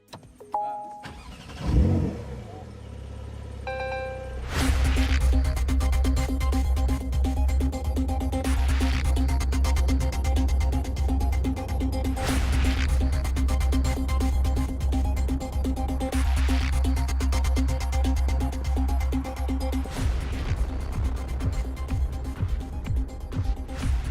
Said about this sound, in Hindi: मैं जो गाड़ी चला रहा हूँ वो है 911 का करेरा एस